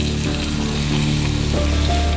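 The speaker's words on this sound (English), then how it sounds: "A sizzling pan first receives a portion of garlic" Garlic hits a hot frying pan at the start of Filipino adobo, giving a steady, close crackling sizzle with a low background hum throughout, no voices.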